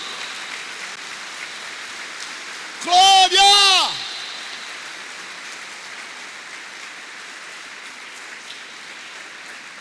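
A church congregation claps in soft, continuous applause, with a preacher's loud shout cutting briefly above it partway through.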